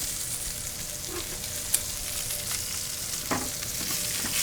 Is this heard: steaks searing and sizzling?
yes